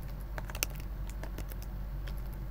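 A computer keyboard being typed on, a quick run of light clicky keystrokes in irregular bursts over a low steady hum, close and clear.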